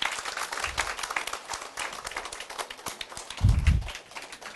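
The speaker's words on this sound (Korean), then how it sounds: "뜨거운 박수 한번 보내주시고" Hands clap for a company CEO entering a university admissions information session, a moderate crowd of applause at medium distance with a brief low thump partway through.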